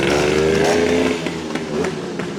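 A 125 motorcycle engine is pop started and revved hard at a race start, its loud, rough, raspy note rising and falling close by with no voices.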